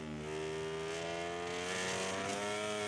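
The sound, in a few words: racing motorcycle engine at low revs in video game MotoGP 17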